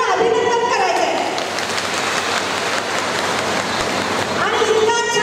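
Applause at a Congress government guarantee-scheme beneficiaries' meeting in Nippani: loud, dense clapping from a large audience fills the whole stretch, steady throughout, with a voice briefly audible near the start and end.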